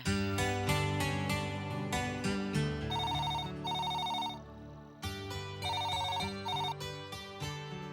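A telephone ringtone plays loud and close in a Tamil TV serial scene, a repeating electronic melody with bright trilling bursts and short gaps between phrases.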